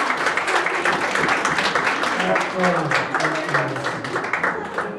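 A scout pack audience at a magician's show claps for scouts heading back to their seats. The clapping is moderate and continuous under a voice and some music, and it fades slightly toward the end.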